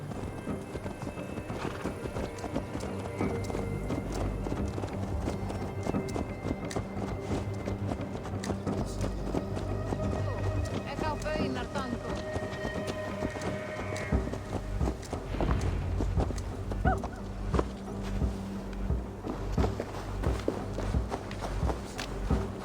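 Steady clip-clop of horse hooves walking on and on in Assassin's Creed Valhalla, close and even, with a faint rumbling backdrop and brief snorting sounds.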